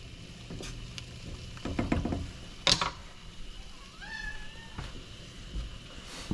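A cat meows in a home kitchen, a couple of short rising cries over a soft background of stirring and cooking noise, with clattering knocks around them.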